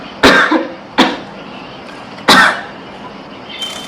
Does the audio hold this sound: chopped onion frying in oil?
no